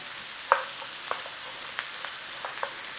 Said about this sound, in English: Brown up the mushrooms.